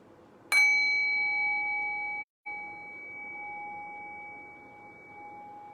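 A single meditation bell is struck once, its clear, sustained ring lingering and slowly fading, with nothing else around it.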